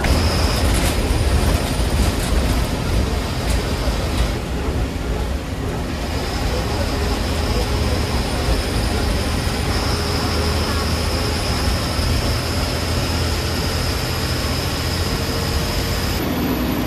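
A packed bus heads to Anganewadi for the jatra, with steady engine and road rumble throughout. Passenger voices murmur underneath, and a faint high whine comes and goes.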